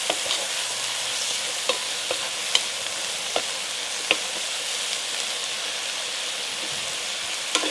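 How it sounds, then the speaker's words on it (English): Mushrooms and onions fry in a pan with parsley, giving off a steady crackling sizzle while occasional spoon knocks and scrapes from stirring stand out at irregular moments. "you want to make sure to go ahead and stir this"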